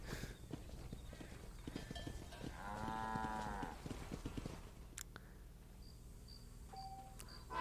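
Cattle in the video game Red Dead Redemption 2 giving a single drawn-out moo amid faint hoof clip-clop and quiet ambient game sound.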